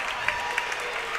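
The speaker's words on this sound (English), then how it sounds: "That's the cheering section for Alice Lloyd starting to get in the game" Cheering section of Alice Lloyd fans waving pom-poms at a college volleyball regional match, a short burst of clapping and crowd noise with a few sharp claps standing out.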